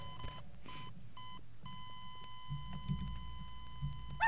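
An explosive barrel in Garry's Mod emits a series of electronic beeps, some short and one long sustained tone, over a low background rumble, fairly faint with no talk.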